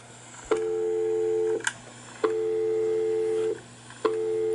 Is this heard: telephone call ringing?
yes